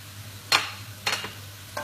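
Chopped onions and seeded peppers brown in a pan, with three brief scraping stirs over a soft, low background sizzle.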